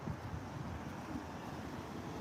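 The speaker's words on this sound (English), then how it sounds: "It's getting windy." Outdoor wind buffeting the microphone, a steady low rumbling gust with no voices or other distinct sounds.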